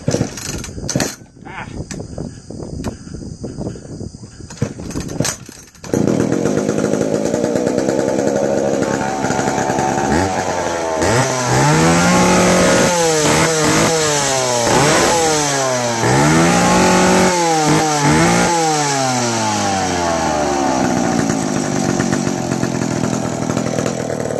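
McCulloch Mac 10-10 automatic chainsaw after a rebuild, first a few rattling pull-start tugs, then the engine catches and runs loudly with repeated revving rises and falls close by.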